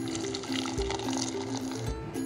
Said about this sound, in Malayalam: അതിലേക്ക് കുറച്ചുകൂടെ വെള്ളം ആഡ് ചെയ്യുക.